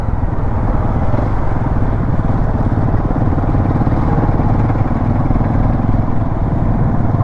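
Motorcycles idle in a roadside traffic jam on Gollahalli road, a loud, steady, close engine rumble with constant low throbbing and no pauses.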